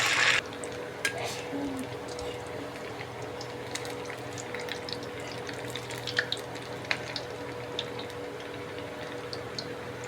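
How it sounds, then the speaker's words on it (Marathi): Semolina medu vadas deep-fry in very hot oil over a steady flame. A continuous bubbling sizzle carries scattered small crackles and pops, close and moderately loud. "आता ते तळून दाखवते तुम्हाला।"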